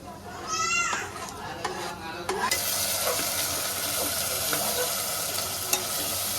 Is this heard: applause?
no